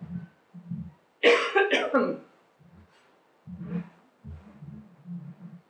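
One harsh, loud cough bursts out from a keynote speaker between stretches of soft, low talking nearby.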